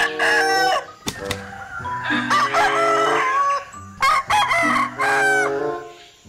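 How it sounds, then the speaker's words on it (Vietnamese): A rooster crows several times in close, loud, drawn-out calls, with short clucking between the crows. "hóa ra là một chú gà trống các bạn ạ"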